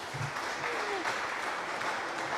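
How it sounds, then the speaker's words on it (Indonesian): An audience at a Nias family church Christmas gathering claps in a brief, dense burst of applause, steady and fairly distant-sounding throughout. "Tepuk tangan dulu Bapak Ibu."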